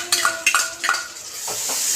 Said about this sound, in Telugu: ఇప్పుడు ఇలా పచ్చిమిరపకాయల పేస్ట్ వేసుకోవాలి.